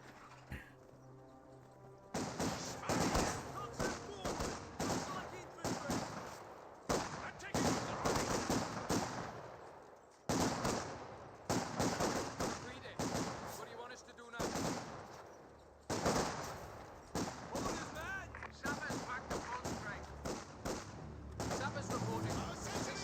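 Sniper gunfire in a Company of Heroes 2 battle, repeated sharp shots in bursts over about twenty seconds, with brief gaps and distant rattling fire amid ongoing combat noise.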